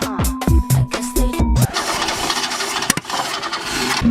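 A Chevrolet Nova's engine cranks with a rhythmic starter churn for over a second, catches, and then revs up into a loud, rough running roar that stays close.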